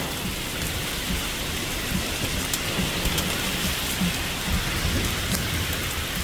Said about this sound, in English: Not sure if you can hear those pinging sounds, but it's coming down, no question about that.